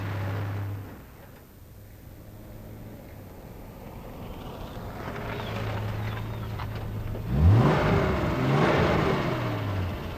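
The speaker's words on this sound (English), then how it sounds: "You can't rev this engine above what it ought to do." A 1971 car engine hums low on a motorway, fades, then revs up sharply near the end, its pitch climbing and sweeping as the motor accelerates.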